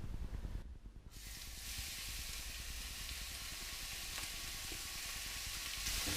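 Mung bean sprouts sizzle and hiss steadily in a pan with water and oil, a loud continuous frying crackle.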